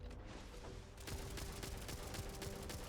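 In Starfield, an assault rifle fires rapid automatic bursts, a steady rattling stream of close shots that grows denser and louder after the first second, with no talking over it.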